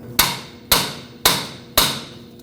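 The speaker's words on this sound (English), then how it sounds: "the easiest way to do this is with a pry bar and a hammer" A hammer strikes a pry bar set against a metal steering rack boot clamp on a 1998-2011 Ford Ranger: four evenly spaced, sharp metallic knocks, close and loud, each with a short ringing tail.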